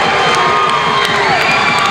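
A high school basketball crowd in a gym roars and cheers after a three-pointer, a loud, dense wash of shouting voices sustained throughout.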